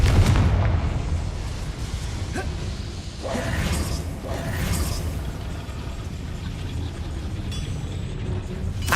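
The Confringo blasting spell goes off in Hogwarts Legacy, giving a dense, rumbling explosive wash with low booms and a few cracks that stay at a fairly even level throughout.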